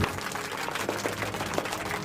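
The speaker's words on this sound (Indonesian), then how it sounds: "Tepuk tangan, guys." A small audience at a disaster-mitigation talk gives brief, fairly quiet applause, a soft continuous patter of hands with a faint murmur underneath.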